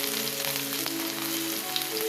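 Chopped onion and chili fry in hot oil with cumin and curry leaves, a dense, steady sizzle close up and unbroken throughout.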